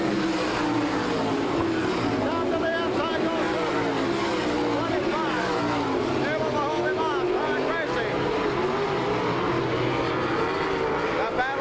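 Race cars roar around the dirt oval at an NCRA All Stars event in Salina, Kansas, a dense, continuous wall of engine noise that swells and shifts as the pack circles, with a commentator talking over it.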